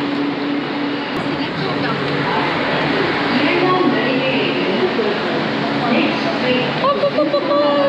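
Metro train in Chennai, India, heard from inside a carriage as a steady broadband rumble and rattle running throughout, with people talking over it.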